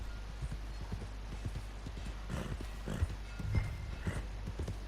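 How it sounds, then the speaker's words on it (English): A horse in the Red Dead Redemption 2 video game clip-clops along at a steady walk, hooves thudding in a close, even rhythm with a brief whinny partway through, all at moderate level over low ambient noise. "เหมือนม้าจะพยศนะเนี่ยร้องจังเหนื่อยนะ"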